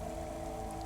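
Steady rain falls in the city of the video game Cloudpunk, a soft, even patter of drops on surfaces with a faint underlying hum, quiet and continuous with no voices.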